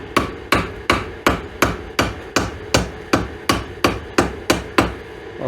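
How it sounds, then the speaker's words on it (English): Ball peen hammer tapping a new gasket into shape on a Caterpillar D4 7U engine part, about a dozen sharp, evenly spaced metallic taps close up, steady rhythm with no talk. "Just take a ball peen hammer"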